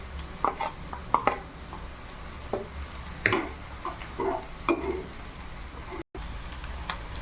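Onions and green chillies frying in a pan for veg hakka noodles, a soft sizzle broken by repeated scraping and clattering from a spoon as they are stirred, with small irregular knocks throughout.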